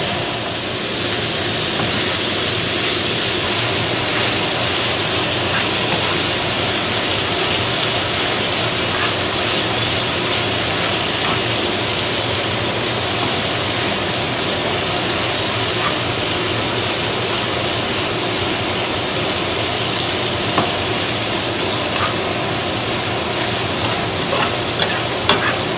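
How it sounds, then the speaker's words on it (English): Italian sausage and pepperoni frying together in a pan make a loud, continuous sizzle with constant crackle and occasional stirring scrapes for the whole stretch, close up and with no talking. "I'm going to cook this until the sausage is completely done"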